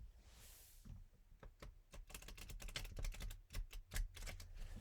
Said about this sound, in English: I will shuffle it one last time in order to have a full shuffle